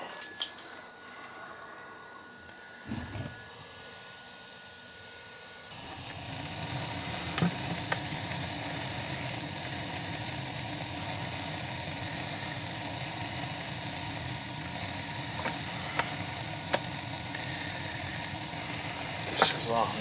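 Gas boiler firing up: quiet background with a click, then a burner whooshes on into a steady roaring hum with occasional faint clicks over it.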